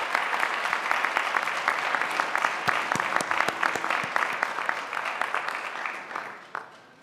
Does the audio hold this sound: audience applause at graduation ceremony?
yes